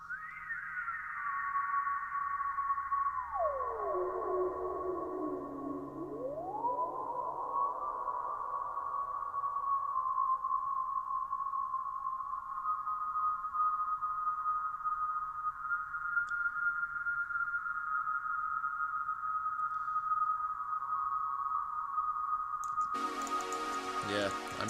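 A soft, airy synth pad sustains with a pitch that dips and rises before settling into a long, even tone, quiet and smooth with a brief fizzy burst at the end.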